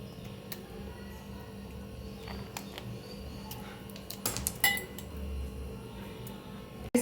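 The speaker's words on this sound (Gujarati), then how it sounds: "આપણે આઈસ ક્યુબ ઉમેરી દઈશું." Ice cubes drop into a tangy jamun shot mixed with lemon and a pinch of salt, a quiet cluster of glassy clinks and knocks over faint kitchen rustle.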